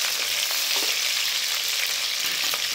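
Dried red chillies fry in oil in a pan, giving a loud, steady sizzle with faint stirring scrapes and occasional pops close by.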